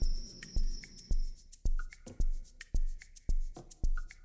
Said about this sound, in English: That's why the frogs are active and make more sound.